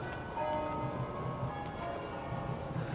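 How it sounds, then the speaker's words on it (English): Church bells ringing in the distance during a stormy walk in Lancaster: sustained tonal bell resonance under steady outdoor ambience and wind, faint and continuous. "There's the bells ringing in the background, assuming that's from the church"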